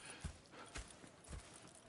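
Horses clip-clopping in Red Dead Redemption 2, with a few distinct hoof thuds spaced about half a second apart over a steady low ambient bed, fairly close and unaccompanied by voices.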